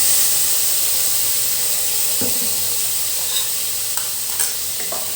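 Sun-dried fish stir-fried with chili and garlic in a hot pan, a loud, steady sizzle and hiss close up with occasional soft scrapes of a utensil stirring.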